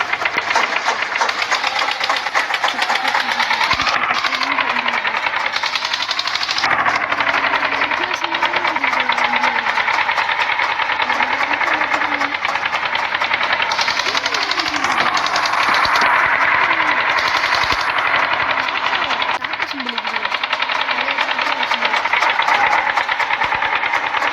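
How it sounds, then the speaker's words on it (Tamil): Tempo vehicle engine in the Indian Vehicle Simulator 3D video game, a loud steady droning rumble with shifting pitch that runs throughout. "பாரு கைஸ் எப்படி இருக்குது சவுண்டு கேட்குங்க."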